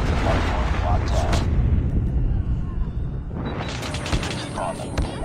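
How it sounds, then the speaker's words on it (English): Grenade and airstrike explosions in a multiplayer shooter game's hardpoint match: loud, rumbling blasts that crowd the mix, fade briefly, then surge again into heavy booming. "Friendly airstrike incoming."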